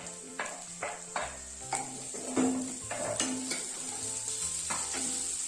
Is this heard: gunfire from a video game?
no